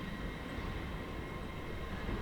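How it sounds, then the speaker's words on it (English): A TransPennine Express Hitachi Azuma train departs Newcastle Station as a steady, fairly faint broadband rumble and hiss heard from the platform, with no speech. "802219 Trans-Pennine Express Hitachi Azuma depart on 9 Mike 22, the 1045 to Liverpool Lime Street."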